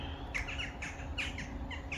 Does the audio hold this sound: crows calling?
yes